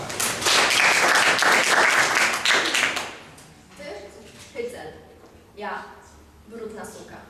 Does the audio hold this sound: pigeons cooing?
no